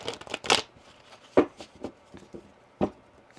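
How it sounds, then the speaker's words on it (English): Tarot cards are shuffled and dealt close up in a reading, giving quick papery riffles and several sharp slaps and flicks spread over a few seconds, with no talking. "Let's get you 3 cards of advice."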